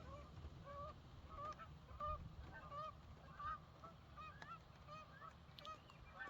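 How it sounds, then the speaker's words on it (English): Geese honk repeatedly outdoors, a series of short nasal calls at irregular intervals, faint and somewhat distant over a low rumbling background. "Geese don't like that."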